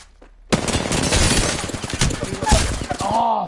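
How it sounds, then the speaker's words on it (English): Rapid bursts of automatic gunfire from a PS4 shooter rattle on in dense, loud volleys for several seconds after a brief quiet start, with a voice speaking underneath. "Getting shot at."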